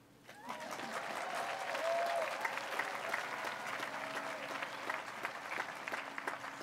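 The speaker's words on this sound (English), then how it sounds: "You can clap." An outdoor stadium audience applauds at a college commencement ceremony. The clapping starts abruptly, stays steady, and fades slightly toward the end. Some cheers and whoops rise above it, and a few voices call out.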